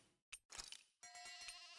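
A sheep on the ranch in the video game Tales of Arise lets out a single short, quavering bleat after a couple of quick in-game sound effects.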